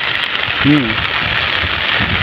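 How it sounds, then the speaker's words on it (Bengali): Heavy rain pours over a village, a steady, dense hiss that fills the whole stretch, with a brief low animal-like call rising over it partway through. "তবে প্রচুর বৃষ্টি হচ্ছে আর কি"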